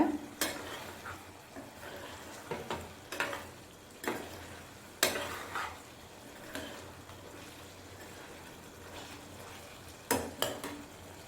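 Chicken gravy cooking on a high flame, with a steady bubbling sizzle and repeated sharp scrapes of a spoon stirring against the pan, spaced irregularly throughout and no talking.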